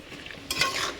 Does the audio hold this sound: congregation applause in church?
no